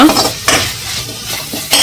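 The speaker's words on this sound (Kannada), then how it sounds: "ಒಗ್ಗರಣೆ ಇದು ಹಾಕಿದ್ದೀನಿ. ಈರುಳ್ಳಿ ನಾನು ಇದು ಸ್ವಲ್ಪ ಹಾಕಿದೆ, ಎಣ್ಣೆ ಸ್ವಲ್ಪ ಹಾಕ್ಕೊಂಡಿದ್ದೀನಿ." Onion is tempered in hot oil in a pan for a spicy Konkani masala, with close, loud clinks and scrapes of a stirring utensil over a soft sizzle.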